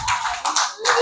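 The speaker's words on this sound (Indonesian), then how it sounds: "tepuk tangan buat jawaban kalian semua" Students in a classroom clap their hands together in a short burst, a few brisk claps close by, loud and brief, with some background voices.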